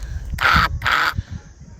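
A person imitates a crow with two loud, harsh caws in quick succession, over a low background rumble, outdoors at Bijli Mahadev Temple in Kullu.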